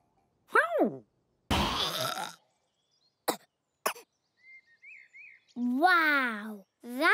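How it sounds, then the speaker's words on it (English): A cartoon character lets out a big, raspy cough that bursts from silence, among squeaky animated vocal yelps and cries, with short clicks and a rising whistle-like tone between them. "That was a big cough."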